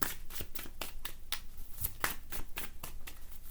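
Spirit guide cards are shuffled by hand in a quiet room, a rapid series of crisp riffling flicks repeating about every third of a second, close and fairly soft, with no voices.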